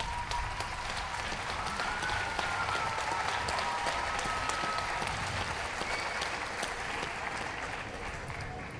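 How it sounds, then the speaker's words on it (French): Large crowd giving sustained, loud applause for 350 young singers performing costumed at an evening show, a dense even wash of clapping lasting several seconds with faint vocal shouts and cheers mixed in. "On peut les applaudir bien fort."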